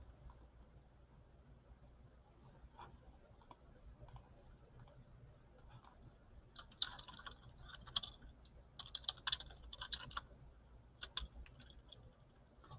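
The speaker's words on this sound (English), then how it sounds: "I'm going to type it in the chat." Someone types on a computer keyboard, giving quiet, irregular clusters of soft key clicks. The clicks grow busier in the second half and stay faint over low background hum.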